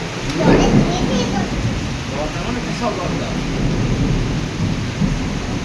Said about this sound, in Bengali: গ্রুম গ্রুম করে মেঘ ডাকছে, ঝড়ও হচ্ছে আবার বৃষ্টিও হচ্ছে খুব ভালো রকমের